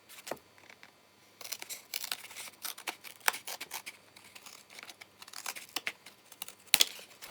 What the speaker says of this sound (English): I'm going to use a pair of scissors to cut the others out